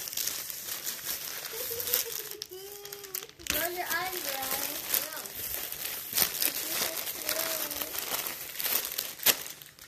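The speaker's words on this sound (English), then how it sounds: "Shuffle the bag up." Crinkly plastic bag shaken and rustled during a candy challenge, rustling and crumpling in bursts close to the mic while children talk over it throughout.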